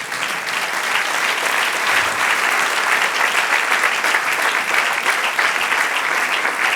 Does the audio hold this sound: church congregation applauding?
yes